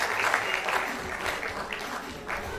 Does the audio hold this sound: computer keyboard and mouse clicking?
no